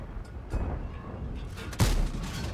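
Tank cannon shots in the World of Tanks video game, a couple of muffled booms with a sharper blast near the end over steady background rumble.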